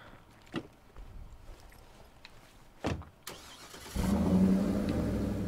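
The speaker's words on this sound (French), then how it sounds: "On va prendre la voiture." A car engine in the zombie survival video game State of Decay 2 starts up and settles into a loud, steady rumble, preceded by a few short clunks and thumps with no talking.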